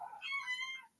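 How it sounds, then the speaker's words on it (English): A single short cat meow, clear and fairly close, rising and falling in pitch over about a second against near silence. "That's a cat."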